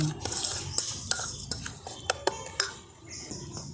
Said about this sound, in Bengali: এবার চিনির সঙ্গে খুব ভালো করে আমি তেলটা মিশিয়ে নিচ্ছি।